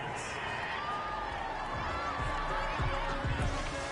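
A home crowd in a football video game roars in a steady, broad wash of cheering, with voices talking over it.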